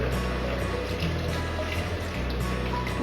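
Beef stock poured into a pot for French onion soup, a steady, close liquid pour with a continuous watery wash and low gurgle lasting the whole moment.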